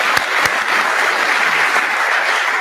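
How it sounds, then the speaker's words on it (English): A technical conference audience gives the speakers a steady round of applause, close and loud, a dense wash of many hands clapping continuously with no talk over it. "let's a round of applause for our speakers"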